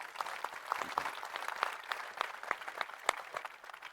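An audience at the Dell Technologies Forum 2024 conference in Dubai gives a round of clapping, a moderate, irregular patter of hands from a modest crowd, with a few sharper individual claps standing out.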